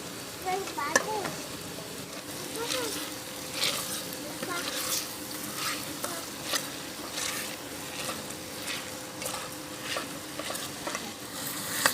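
Semolina halwa stirred and roasted in a pan for a Multani village-style recipe, a steady soft frying sizzle with repeated scraping strokes of the spoon, close and continuous throughout.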